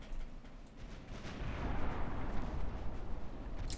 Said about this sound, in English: And that was a very nice torpedo attack